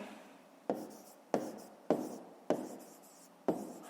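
A pen writes a math answer on paper in five crisp, evenly spaced strokes, each sharp at the start and quickly fading, close and quiet.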